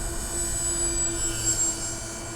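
An Avios BushMule V2 RC model airplane on skis flies over snow in the wind, giving a brief, moderately distant high motor whine that swells slightly under breezy background noise.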